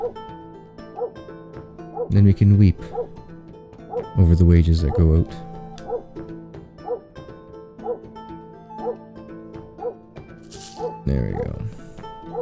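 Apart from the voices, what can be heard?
dog barking in video game Saelig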